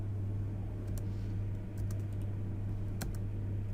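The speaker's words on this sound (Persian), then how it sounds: "تب فشار میتیم یا انتر میکنیم" Tab and Enter keys being pressed on a computer keyboard during AutoCAD work. A few light, sharp key clicks come sparsely over a steady low hum, close and faint, with no talking.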